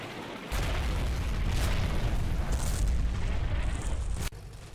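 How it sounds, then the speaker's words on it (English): A mortar artillery shell bursts in Combat Mission Fortress Italy, striking German positions near the Troina entrance: a loud, deep, rumbling explosion that rolls on for about four seconds before cutting off abruptly. "Artillery hits positions near the Troina entrance with both HE and smoke."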